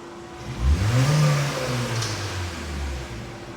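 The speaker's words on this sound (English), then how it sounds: "watch what happens when I do a snap throttle here" A car engine, on a vehicle with a catalytic converter fault (P0420), rises in a quick snap-throttle rev, then eases back to a steady hum with a faint whine, close and loud with no talking.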